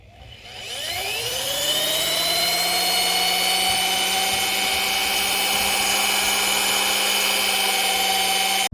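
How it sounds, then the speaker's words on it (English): A drill-driven buffing pad works rubbing compound into the paint of a 2016 Audi A7, giving a loud, steady high whine that spins up at the start and then holds an even tone throughout. "try and buff out the remaining with rubbing compound and this ghetto setup"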